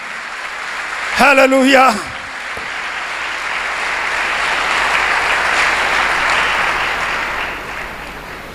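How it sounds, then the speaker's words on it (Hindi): A congregation at a Pentecost church service breaks into loud, sustained applause that swells and fills the room after a brief shouted exclamation. "जोरदार तालियां"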